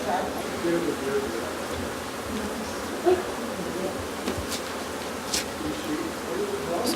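Honey bees buzzing in an open hive during a strong nectar flow, a dense continuous drone close by with occasional individual bees zipping near, and quiet talk mixed in.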